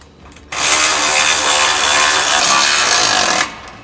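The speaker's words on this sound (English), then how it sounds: "we'll tighten up the two resonator bolts" A power tool tightens the two resonator bolts on a Borla Stinger S-Type dual rear exhaust on a 2015–2018 Ford F-150 5.0L, a single loud, close, steady whirring burst of about three seconds that starts and stops abruptly.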